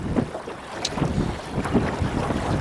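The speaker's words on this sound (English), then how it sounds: "I can hear the trolling motor doing" A boat's electric trolling motor labors against strong wind on open water, its hum buried under steady gusting wind noise buffeting the microphone.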